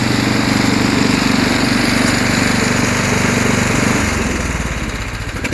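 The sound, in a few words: snowblower engine idling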